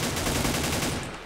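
Rapid automatic gunfire in a video game rattles out as one continuous burst of closely spaced shots. It is loud and close and fades slightly at the end.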